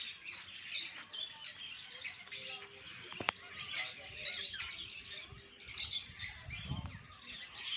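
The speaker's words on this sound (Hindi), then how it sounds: "यहाँ देसी तोते हैं जो बैठे हुए हैं ऊपर।" Indian parrots perched overhead at Gorakhpur Zoo give scattered chirps and squawks over a steady wash of ambient zoo noise, fairly faint and distant, with one sharp click partway through.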